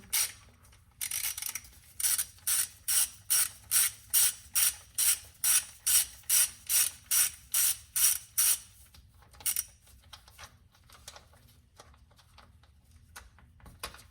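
Ratchet wrench clicking rapidly while loosening T30 Torx bolts on the turbo outlet pipe bracket of a 2.0 TSI engine, a long run of crisp, evenly spaced close ratcheting strokes that slows and fades near the end.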